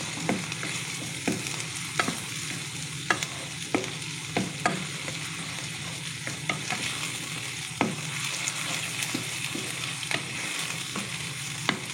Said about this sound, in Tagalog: Gigisa lang natin siya ng 3 minutes